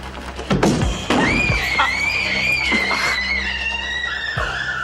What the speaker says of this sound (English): Those screams will bring officers from all over the building